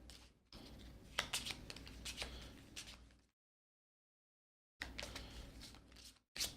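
Crisp riffling bursts of Pandemic board game infection cards being shuffled, two rounds separated by a brief silence, close and clear with no talking.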